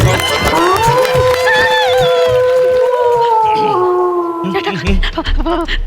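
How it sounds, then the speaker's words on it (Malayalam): A long, sustained dog howl rises and holds steady for several seconds, with other voices and background chatter around it and a rougher burst near the end, during a comedy show. "പട്ടി ഓരിട്ടാ പട്ടി ഓരിട്ട പ്രേതം വരും."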